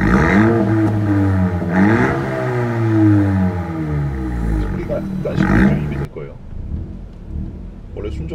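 Honda Civic 1.5T with a six-speed manual and a Chinese CKS aftermarket exhaust revving in loud, close, rising and falling engine sweeps that settle into a lower drone, with a voice talking over it.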